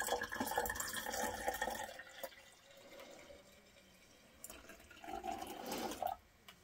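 Ammonium carbonate solution is poured into cochineal bug dye extract made with hot water, giving a short liquid splash and trickle that fades, then a second burst of pouring near the end.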